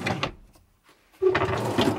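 A quick wooden slide and bump of a kitchen utensil drawer shutting in a camper van, followed by a louder rattle of items shifting inside, close by.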